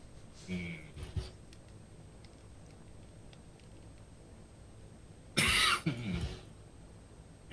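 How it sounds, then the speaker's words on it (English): Two short coughs close to the microphone, a faint one first and a louder, harsher one a few seconds later, over quiet background. "stop coughing."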